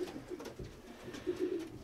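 A racing pigeon coos softly in a loft, a low rolling call repeated a few times at close range, with no talking.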